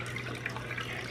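Water runs into a glass jar being filled for pickling-lime egg storage, a soft, close trickle with faint dripping and no voices over it.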